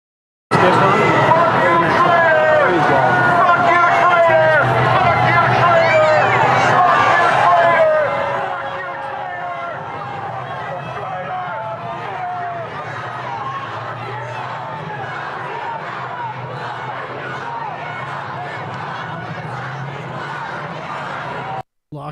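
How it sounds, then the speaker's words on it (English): Crowd of protesters chanting and yelling at a Donald Trump event, a loud mass of voices for the first several seconds, then falling to a quieter murmur of crowd chatter. "the crowd yelled, "Lock him up.""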